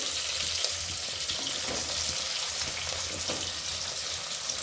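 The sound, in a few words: potato pieces added to frying soya biryani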